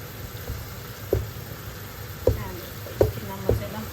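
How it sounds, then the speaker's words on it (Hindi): Spiced masala fries in hot oil in a pan for Punjabi pakoda kadhi, a soft steady sizzle broken by several sharp knocks of a spoon stirring against the pan. "अब इसको थोड़ा सा भी ये भून हो जाए, मसाला थोड़ा अच्छे तरीके से भूना जाए"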